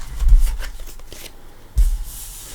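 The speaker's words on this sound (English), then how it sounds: "I think we're going to shuffle" A deck of tarot cards shuffled by hand at close range in two rustling bursts, a longer riffle first, then a pause and a second shorter shuffle, with no talk.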